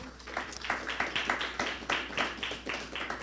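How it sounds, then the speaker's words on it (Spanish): A church congregation claps together in a steady, rhythmic beat, the sharp claps landing about three times a second at a moderate distance over a low room hum. "Pueden darle palmas a Dios por su amor."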